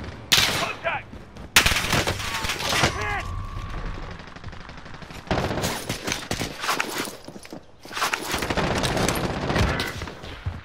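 Video game gunfire breaks out in bursts of rapid shots and volleys, loud and close, separated by quieter gaps, with a player's voice in between.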